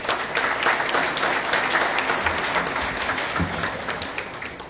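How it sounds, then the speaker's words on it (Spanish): Crowd at an agricultural sector leaders' swearing-in ceremony in Tlaxcala breaks into strong applause, many hands clapping in a continuous, fairly loud wash that holds steady for several seconds. "Lo recibimos con un fuerte aplauso."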